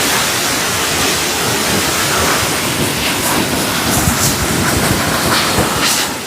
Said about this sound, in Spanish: Esta es la cascada más alta